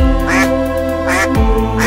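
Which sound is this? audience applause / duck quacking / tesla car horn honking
duck quacking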